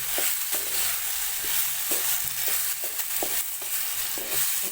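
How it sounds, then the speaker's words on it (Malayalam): Snake gourd and onion frying in a pan as a spoon stirs them, with repeated scraping strokes over a constant close sizzle. "ഇതുപോലെ നന്നായിട്ട് ഇളക്കി കൊടുക്കുക"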